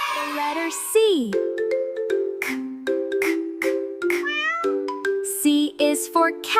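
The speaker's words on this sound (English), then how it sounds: "C is for cat." Several loud, close cat meows in a row, with rising and falling pitch, and bright chiming tones between them.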